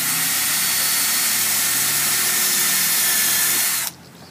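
A power drill whines loudly and continuously for several seconds while drilling into wood, then cuts off abruptly near the end, leaving quiet background.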